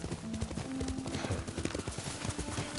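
A horse being ridden in Ghost of Tsushima, a brisk, steady clip-clop of hooves close up, mixed with game ambience and a faint talking voice.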